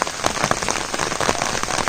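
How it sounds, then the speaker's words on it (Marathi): Heavy monsoon rain sweeping in from the sea over a Konkan village, a steady dense hiss of drops pattering on surfaces, loud and continuous with no voices. "समुद्राकडून पाऊस येतोय"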